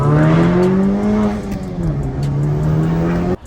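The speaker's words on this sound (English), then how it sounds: "I honestly just got the Purell intake. Sounds really good. It's really loud." A Honda Civic Type R with a loud aftermarket intake revs close up, giving a strong, steady harmonic engine drone that rises and dips slightly before cutting off abruptly near the end. No one speaks.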